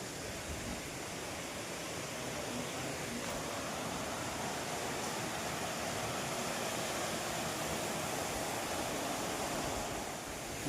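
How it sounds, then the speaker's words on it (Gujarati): Water rushes loudly and without pause near Galdhara Khodiyar temple in Dhari, a dense, even roar like a waterfall or fast stream, close by and with no voices. "પાણીનો અવાજ તો જોરદાર આવે"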